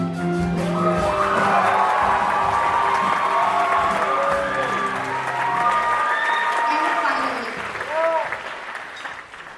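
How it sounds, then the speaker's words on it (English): An audience at a student anniversary stage show applauds the music team, loud clapping mixed with cheers and whoops, voices rising over it before the noise thins out near the end. "please give the loudest applause to our marvelous music team"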